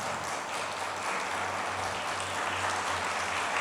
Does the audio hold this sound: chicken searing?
no